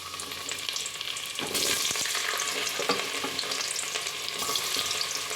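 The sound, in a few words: carrots frying in oil and ghee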